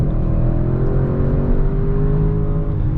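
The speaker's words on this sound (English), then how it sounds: "Even though this 4-liter V8 is muted, it does sound pretty good." A 2021 Audi RS6 Avant's 4-liter V8 revving steadily under load on a race track, a loud, close, continuous rumble with rising tones, heard from inside the car.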